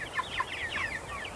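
Chickens in a tractor coop cluck faintly in quick, chattering bursts, with a rooster among the flock, heard briefly and at a distance.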